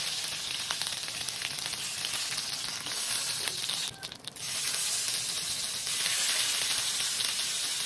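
Marinated chicken fries in a hot pan with a steady, dense sizzle and crackle close by, briefly stirred or shifted partway through, then the frying continues without any speech.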